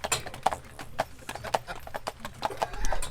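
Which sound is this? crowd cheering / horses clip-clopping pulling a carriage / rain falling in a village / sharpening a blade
horses clip-clopping pulling a carriage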